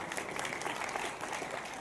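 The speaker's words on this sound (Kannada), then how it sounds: "ಜೋರಾದ ಚಪ್ಪಾಳೆ" Applause rises from an audience at a music evening celebrating Dr. Rajkumar, a dense, continuous clapping heard from some distance and moderately faint throughout.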